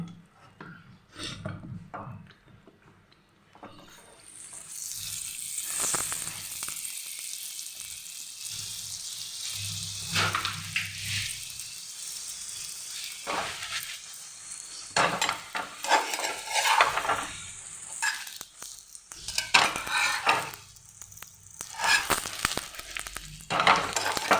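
Hot oil hisses and sizzles steadily in a pan during tempering for dal paratha, a broad crackling wash that swells after a quiet start, with occasional utensil clinks and no talking.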